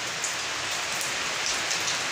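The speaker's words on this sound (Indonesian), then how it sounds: "Ini hujan, lur ya." Rain falls steadily at home, a continuous even hiss of drops on surfaces, with no voices.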